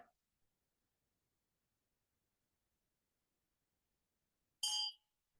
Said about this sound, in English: let's begin meditation with this ring of bell.